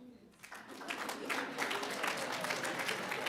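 Crowd at a school pinning ceremony breaking into applause, starting quiet and swelling within half a second into sustained clapping from many hands at moderate distance.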